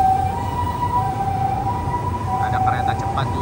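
An ambulance siren wails steadily at a distance over rumbling traffic noise in Japan, with faint voices toward the end.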